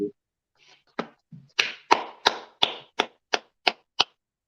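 An audience at a class gives a short burst of applause, a run of about ten sharp, evenly spaced claps that are fairly close and clear, with no talk over them.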